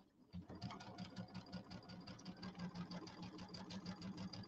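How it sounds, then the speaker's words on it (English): A sewing machine top-stitching around the edge of a winter-themed settee pillow about an eighth of an inch in, running steadily with a fast, even mechanical chatter from start to finish, close and fairly quiet, with no talk. "I'm going to sew around. And that's about an eighth of an inch top stitch."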